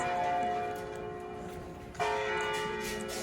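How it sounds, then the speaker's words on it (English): A church bell tower in Orvieto, Italy rings with sustained, overlapping tones, a fresh strike about two seconds in, heard at a distance with no talking. "the bell tower is just finished ringing"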